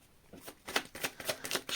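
A deck of tarot cards is riffled and shuffled in quick repeated bursts, the crisp flutters close and growing louder toward the end, with no talking.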